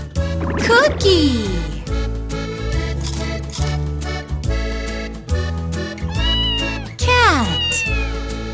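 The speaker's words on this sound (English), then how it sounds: "Cat!" A cat meows a couple of times over bright, busy background music, the cries rising and falling clearly above the steady accompaniment.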